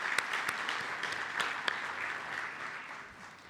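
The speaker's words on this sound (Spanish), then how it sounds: "quiero que le demos un aplauso a Pablo Valenzuela" Audience applause at an oncology congress on medicine access and clinical research, a steady wash of clapping from a crowd lasting throughout and slowly thinning toward the end.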